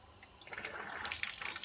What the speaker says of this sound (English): just run the hose through the valve